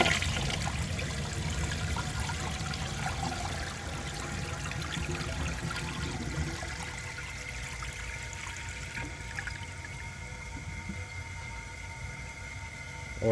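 A 1973 Eljer Emblem toilet flushes with an old worn dish towel in the bowl, giving a steady, close rush and trickle of water that holds for the whole stretch and eases slightly toward the end.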